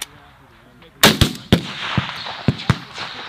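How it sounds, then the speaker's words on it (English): Sharp M16 rifle shots crack out at a high power rifle match, several distinct reports spaced unevenly over a few seconds with other shots ringing in the distance, loud and echoing outdoors. "gonna shoot one more."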